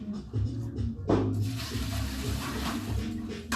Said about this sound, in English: you hear water because this is what I had it sitting in. I had these sitting in a bucket of water